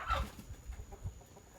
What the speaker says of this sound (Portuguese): Olha que galo danado, tá comendo toda a ração dos peixes.